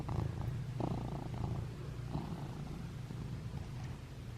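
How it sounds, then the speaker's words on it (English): A cat purrs steadily and close by, a low rumbling drone that holds for several seconds without a break. "Listen to that purr."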